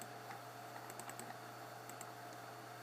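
A calculator keypad tapped while entering numbers, giving a few faint, quick clicks in small clusters over a steady low electrical hum, close and soft with no voice.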